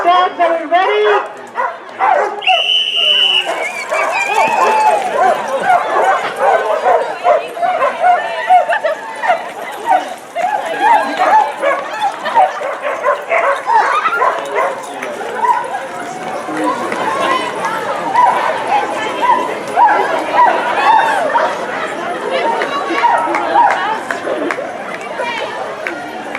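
Dogs barking, yipping and whimpering excitedly outdoors before a run, a dense near chorus of overlapping barks throughout with people talking in the mix.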